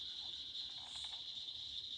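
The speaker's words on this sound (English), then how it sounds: "you can hear a bunch of different frogs calling, which includes some leopard frogs, some chorus frogs" Frogs calling in an outdoor wetland, a chorus including leopard frogs and chorus frogs, heard as a steady, dense, shrill trilling drone throughout, fairly distant and continuous with no voices.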